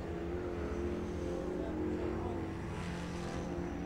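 A race car at Cornwall Motor Speedway roars past during qualifying, its steady droning engine loud and sustained with a slight swell toward the end.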